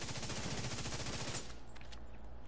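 Rapid automatic gunfire rattles in a Destiny raid, a fast loud burst of shots lasting over a second before it stops abruptly.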